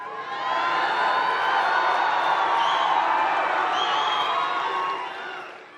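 A large crowd at a political rally in Saginaw, Michigan cheers and whoops in a loud, sustained roar that swells in and fades near the end, with no clear speech over it.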